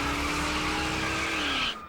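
Car tires squeal in one long, loud skid during a nighttime police chase in Sacramento, the screech sustained and steady before cutting off abruptly as the car plows into a fence.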